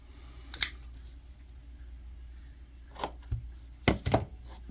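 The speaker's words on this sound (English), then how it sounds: "I'm going to take this knife right here and I'm going to cut this off smooth and even as I can" A knife trims the end of a cord knife lanyard with a few sharp snips and cuts, brief clicks scattered against a quiet indoor background.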